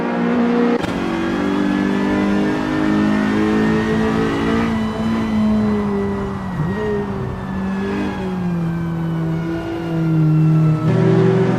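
Race cars accelerating around the Goodwood circuit in the Assetto Corsa racing game, a loud sustained engine drone with rising and shifting revs and tonal whine, continuous throughout with no talk.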